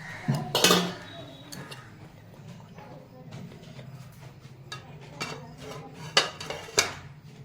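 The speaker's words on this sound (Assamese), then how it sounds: "এতিয়া কাম আছে সপা বাচন ধুবলৈ আছে" Dishes being washed by hand at home in Assam, with scattered clinks of cutlery and pots against each other, louder bursts early and near the end, under light background noise and some talk.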